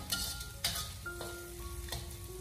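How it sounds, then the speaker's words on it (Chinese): Chopped aromatics stir-fry in hot oil in a wok over low heat, a soft steady sizzle with scraping spatula strokes and a few sharp clinks, close and alone. "油热以后再下切好的小料，开小火给它翻炒一下，把小料先给它炒香"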